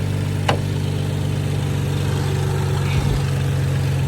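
Steady, moderately loud idle from a car engine fitted with new coil packs and spark plugs, a constant low rumble with a couple of short clicks.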